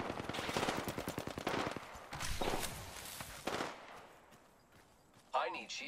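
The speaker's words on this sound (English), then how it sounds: "Getting shot at." Rapid gunfire bursts rattle close by in the Apex Legends video game, with several quick volleys and single shots fading out, followed by a sharp electronic effect, and a voice talking over part of it.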